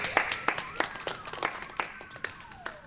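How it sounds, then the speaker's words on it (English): A small audience at a paper theater celebration gives sparse, distinct claps at a steady pace. The applause is thin and moderately close, with a faint high tone sweeping underneath. "maybe there should be some applause for the spectacular"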